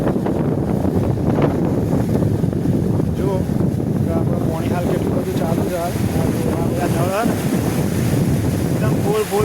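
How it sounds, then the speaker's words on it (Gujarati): Heavy monsoon inflow of the Saraswati river rushes into Mokeshwar dam, a loud continuous roar of churning water with strong wind buffeting the microphone, while someone talks over it throughout. "આ રહ્યું આપણું પાણી જો એકદમ વધારે પાણી આવે છે"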